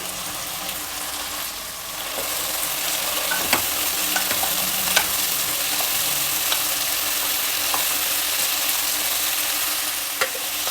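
Carrot and kohlrabi fry in oil for pulao under a steady sizzle, with occasional sharp scrapes and clicks as a spoon stirs the pan. It is close and continuous, with no speech.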